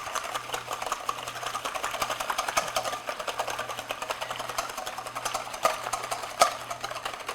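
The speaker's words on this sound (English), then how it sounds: "I'm just taking a whisk, break them up." Eggs whisked by hand in a bowl, a fast steady rhythmic clicking and rattling of the whisk against the bowl, close and continuous with a faint low hum beneath.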